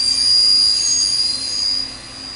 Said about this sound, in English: That high pitch is just the tuning of the ultrasonics.